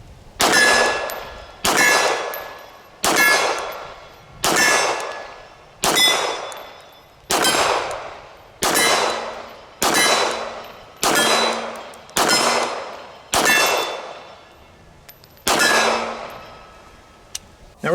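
A Canik TP9 SFL long-slide pistol firing at the range, about a dozen sharp ringing shots at a steady, roughly one-second pace, each with a quick bright decay.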